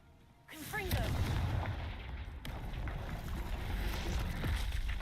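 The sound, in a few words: Confringo fire spell cast, video game Hogwarts Legacy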